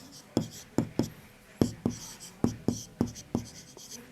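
Rhythmic writing strokes come close and clear, about a dozen short scratchy taps at a steady, quick pace in a quiet room.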